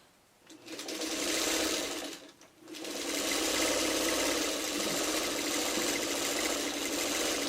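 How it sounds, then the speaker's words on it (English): Sewing machine stitching quilt strips together, a close, steady mechanical whir that stops briefly once and then runs on continuously, with no talk. "So I'm just going to keep sewing this until I get a block."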